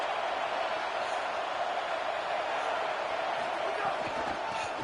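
Stadium crowd noise from a USC college football video game, a steady, loud wash of cheering and roar that holds level throughout with no clear breaks.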